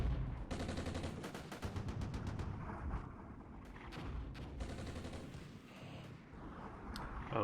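MLRS rocket artillery in the Armored Brigade war game fires a rapid ripple of crackling launches followed by scattered booms, all fairly faint and rumbling.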